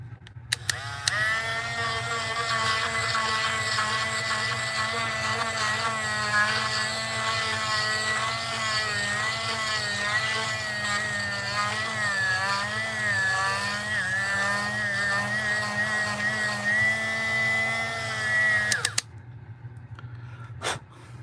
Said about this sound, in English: We're gonna Dremel out some more on the inside.